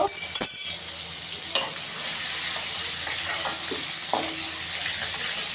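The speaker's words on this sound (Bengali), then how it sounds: "একটু ভেজে নেবো চিংড়ি মাছটা" Prawns frying in hot oil in a pan, a steady close sizzle with a few clinks and scrapes of stirring, loudest near the start and then settling into even crackling.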